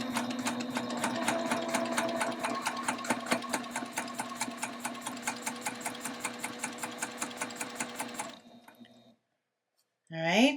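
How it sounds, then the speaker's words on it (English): A sewing machine stitches through a quilt sandwich in a rapid, even run of mechanical clicks for about eight seconds, then slows and stops, followed by a brief quiet pause and a final short sound. "I'm gonna put my hands on my quilt sandwich and then start stitching."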